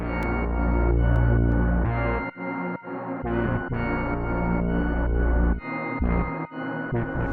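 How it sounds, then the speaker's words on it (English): A sustained, loud synth piano plays rich chords with echoing repeats, the notes blending into a dense, shimmering wash that briefly drops out between phrases. "I'm just going to open up this echo piano as well"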